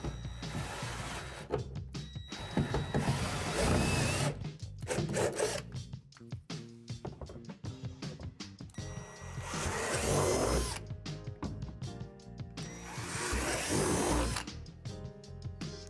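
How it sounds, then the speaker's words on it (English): Power drill boring out plastic divots on the underside of a playset slide with a 3/8 drill bit, sounding as several loud grinding, rasping bursts of drilling separated by short pauses, close up with no talking. "there are 3 divots underneath that you need to drill out with a 3/8 drill bit"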